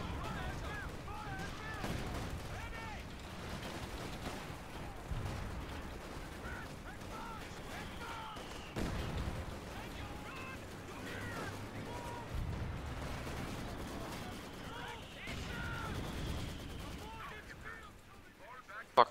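Mortar and artillery fire in a Company of Heroes 2 4v4 match, with repeated booming impacts and gunfire scattered across the scene at moderate distance, under steady game noise and voices talking.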